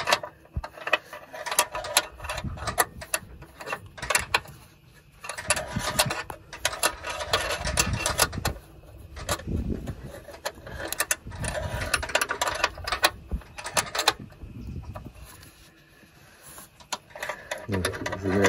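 A small wrench works a bolt on the frunk of a Tesla Model Y, giving irregular ratcheting clicks and mechanical rattles in close bursts, with someone speaking quietly in French in between.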